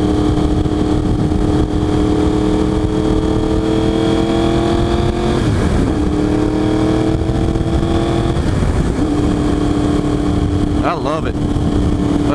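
Engine of a 2023 Yamaha R1 sport motorcycle on an easy ride, a steady loud drone with faint wind noise, rising and falling slightly in pitch between shifts, heard up close throughout.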